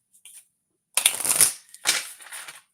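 A deck of playing cards being shuffled in a few brisk riffling bursts separated by short pauses, close and crisp with no talking.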